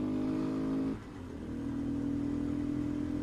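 A Honda Grom motorcycle engine hums at a steady idle close by, dropping briefly and then settling back into an even, low drone.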